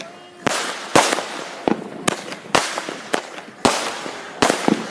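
A 12-shot Fourth of July firework cake fires off, about a dozen sharp cracking bangs in an irregular rhythm, loud and close, with no speech.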